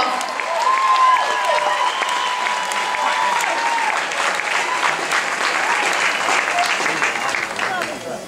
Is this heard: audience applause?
yes